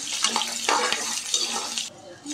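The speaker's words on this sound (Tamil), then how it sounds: "இதையும் ஒரு 2 நிமிஷம் நல்லா வதக்கிக்கலாம்." Garlic and ginger sizzle and hiss in a hot pan while a utensil stirs and scrapes, the frying loud and close.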